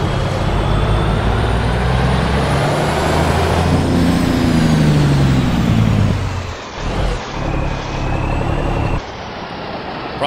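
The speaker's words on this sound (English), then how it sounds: "Of course I know everyone's gonna love hearing the Jake brake." A Peterbilt 359 truck engine in American Truck Simulator rumbles with a rapid staccato Jake brake chatter, loud and close, then cuts off with a hiss of released air brakes near the end.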